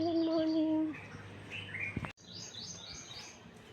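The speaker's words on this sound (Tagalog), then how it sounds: "Ang huni ng mga ibon." Birdsong outdoors in the morning, a few bright chirps and calls near and farther off, with a brief thump partway through and steady open-air background.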